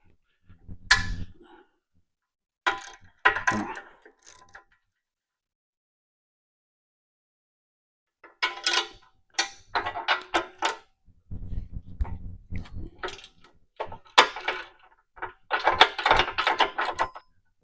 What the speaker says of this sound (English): So I'm going to put the 9/16 wrench on the bottom, the wrench on top.